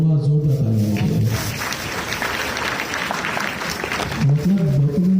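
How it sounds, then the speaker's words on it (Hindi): An audience in an onsite coding class breaks into loud, dense applause that fills the middle of the stretch, with a voice talking just before it starts and again as it fades. "जोरदार तालियां बजाइए।"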